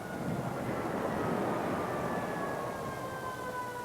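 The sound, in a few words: fire truck siren passing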